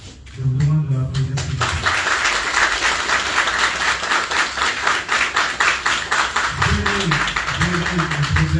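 An audience at a handover and installation ceremony for the minister of youth and sports applauds M. Bia Diallo, dense sustained clapping filling the room, with a voice speaking at the start and again near the end.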